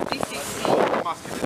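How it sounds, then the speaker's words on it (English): Gusty wind buffets a microphone outdoors around a football ground, rumbling in loud low bursts that swell and drop, with a voice talking over parts of it. "Oh, God, it's windy round here, just isn't it?"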